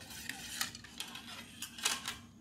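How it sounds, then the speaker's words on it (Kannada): Ingredients for pani puri water are stirred with a spoon in a metal vessel, giving soft, irregular clinks and scrapes of utensil against the container, quiet and close with no talking. "ಚೆನ್ನಾಗಿ ಮಿಕ್ಸ್ ಮಾಡ್ಕೊಳ್ಳೋಣ ಇದನ್ನು"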